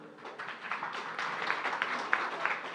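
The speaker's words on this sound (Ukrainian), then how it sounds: "Прошу привітати оплесками мера Скадовська." Applause at an international forum in Lviv greeting the mayor of Skadovsk, fairly quiet clapping from a seated audience that swells slightly and carries a few distinct sharp claps.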